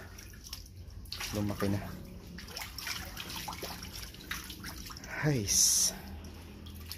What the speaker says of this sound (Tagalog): Lagyan ko ng tubig uli